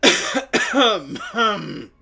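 Harsh throat clearing and coughing in a raspy voice, several short strained bursts in quick succession, close and fairly loud.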